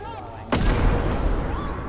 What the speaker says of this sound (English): Run! It's a bomb.